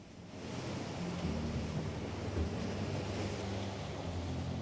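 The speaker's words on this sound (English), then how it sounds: "Now the wind has picked up and is changing in the right direction as well" Wind and waves at sea aboard a sailing boat crossing the Coral Sea make a continuous broadband rush with a low rumble underneath, steady and fairly close, with no voices.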